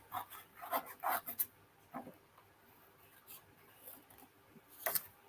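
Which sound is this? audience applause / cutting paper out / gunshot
cutting paper out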